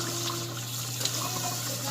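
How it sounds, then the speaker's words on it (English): Water runs steadily from a tap while someone wets their hair, giving a faint, continuous splashing trickle with no talk. "I'm going to wet my hair pretty good."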